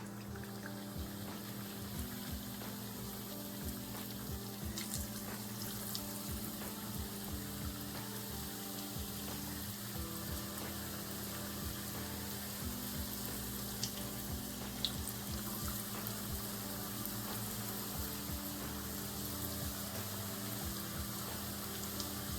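Mango festival dumplings frying in oil in a pot, a quiet, steady hissing sizzle over a constant low hum, unbroken for the whole stretch, with no voices.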